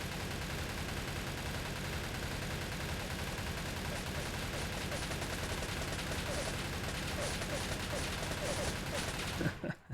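Sustained rapid automatic fire from an RPD machine gun in a video game, a dense unbroken stream of shots lasting nearly ten seconds before stopping abruptly.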